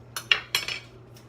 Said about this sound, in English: Stir them in our basil pesto.